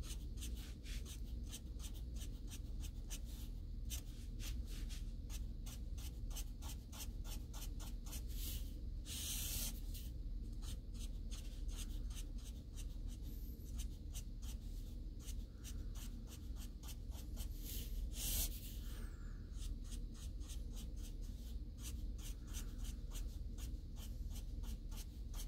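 Grooves are cut into paper to make cardboard, producing quiet, continuous scratchy strokes that repeat in a steady rhythm with occasional brief louder rasps, and no one talks.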